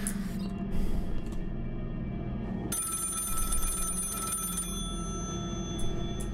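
A telephone rings inside a horror video game set aboard a subway car, a bright trilling bell that cuts in midway over a dark rumbling ambience and holds for about two seconds before stopping.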